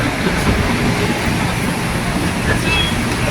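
An electric BTS Skytrain at Siam station in Bangkok makes a steady, loud rumble with an airy rushing wash, and a faint high squeal rises briefly near the end.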